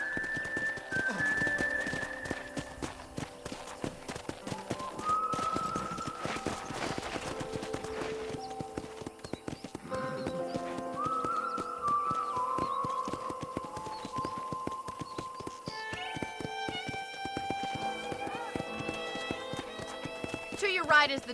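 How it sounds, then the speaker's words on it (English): Horse hooves clip-clopping in Red Dead Redemption, a steady rhythmic walk of sharp close clops running throughout, under game music and a voice. "I picked out a fine horse for you."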